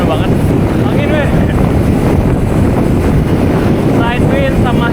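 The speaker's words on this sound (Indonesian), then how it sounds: "Side wind sama headwind. Angin depan sama angin samping." Strong side wind and headwind roar across the microphone while cycling downhill on a road toward Purwakarta, a loud steady rush with brief faint whistling tones.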